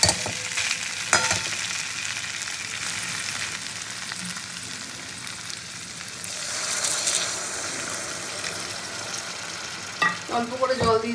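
Fish curry sizzling steadily in a pan as a small amount of water is added, a continuous hiss with occasional stirring clatter and a louder bubbling burst near the end, no talk.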